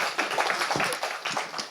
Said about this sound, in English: If you would give a round of applause to Teddy